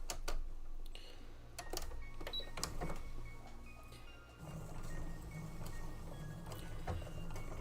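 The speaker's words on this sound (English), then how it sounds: "I'm just going to go ahead and sew it up because I hate pins." A sewing machine stitching fabric in quick mechanical bursts, with clicking and a steady motor hum that picks up in the second half.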